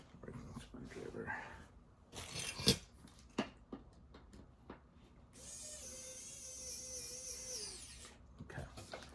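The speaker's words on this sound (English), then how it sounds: "Screwdriver." A screwdriver being used to assemble a sword display stand, with a steady motorized whir lasting a few seconds amid handling clatter and nearby talk.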